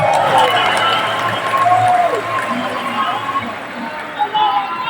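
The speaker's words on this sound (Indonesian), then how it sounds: "Tepuk tangan untuk para pejuang reformasi kita." A crowd at a rally marking 25 years of reform in Indonesia claps and cheers for the reform fighters. The noisy, rumbling roar of the gathering carries on under voices and swells briefly near the end.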